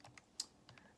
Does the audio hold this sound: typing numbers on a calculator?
yes